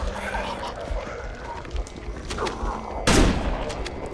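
Shotgun blasts in the game Halo: Combat Evolved, with scattered gunfire and combat noise throughout and one loud, sharp blast near the end standing out above the busy mix.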